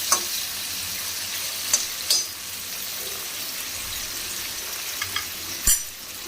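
Potatoes and cauliflower sauté in refined oil in a pan, giving a steady, close hiss of frying broken by a few sharp clinks and scrapes from stirring, with no talk.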